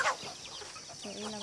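Chickens on a small farm cluck briefly and softly at a distance, a few short, faint calls over a quiet background.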